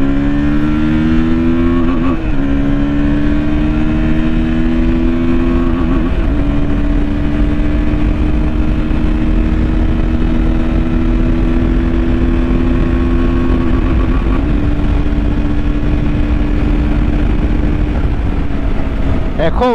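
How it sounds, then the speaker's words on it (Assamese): A KTM 160 Duke motorcycle on the move, its engine producing a loud continuous drone that shifts pitch with gear changes and throttle, with a voice speaking over it. "বাকি চলাই চাও বাইকখন অলপমান দৌৰাই চাও"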